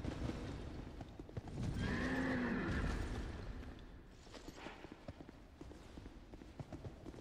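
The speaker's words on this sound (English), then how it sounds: "It's the chariot horse again" A chariot horse in Dark Souls 2 whinnies loudly once, a rising and falling neigh, over a rumbling bed of hooves and game noise that continues more quietly afterward.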